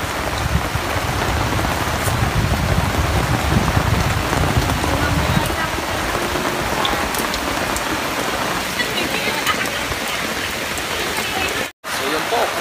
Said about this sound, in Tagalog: ang ulan po ay wala pong tigil